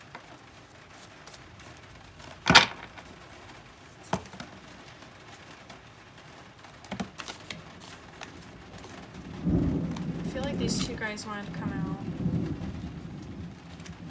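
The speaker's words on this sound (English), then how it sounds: "that thunder is crazy" Thunder rumbles through a rainstorm, with a sharp crack early on, a few softer rolls, and a long heavy rumble near the end over steady rain; a person talks briefly.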